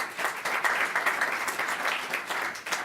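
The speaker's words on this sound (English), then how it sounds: "We can give him a round of applause." Sustained applause from an audience at a school board meeting honoring graduates, steady dense clapping at moderate volume throughout with no break.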